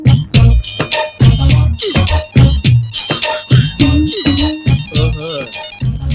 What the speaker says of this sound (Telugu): నా సెల్ ఫోన్, నా సెల్ ఫోన్